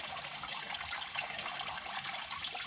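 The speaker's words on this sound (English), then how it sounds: "if you got water running like that out of something" Coolant water runs steadily out of a New Holland B95 tractor engine during a water pump replacement and splashes into a bucket, making a continuous, fairly close pouring hiss with no talk.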